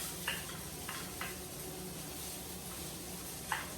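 Shrimp fried rice being stirred in a hot pan, a soft, even background sizzle with a few light scrapes and utensil clinks, fairly quiet and without talk.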